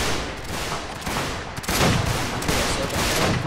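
Musket volleys fire in the Napoleonic-era NaS mod of Mount and Blade Warband, a dense, continuous crackle of many shots overlapping into a loud rolling roar, with a fresh wave of fire swelling about halfway through.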